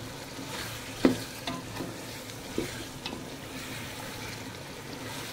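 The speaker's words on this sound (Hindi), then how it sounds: "अभी इसे हम भी अच्छी तरह से हिला देंगे।" Chicken pulao being stirred in a pot with roasted cumin powder, a spoon scraping through rice and chicken in a few distinct clinks and scrapes over a low, steady sizzle, quiet and close.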